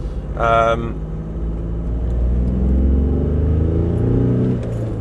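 An Audi A2 TDI 90 diesel with an Addspower tune drones steadily while driving, a low, tuneful engine hum with a voice talking over it.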